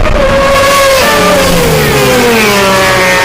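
A race car rushes past on track exiting a corner, its loud engine note sliding downward in pitch as it pulls away, close and dominant throughout.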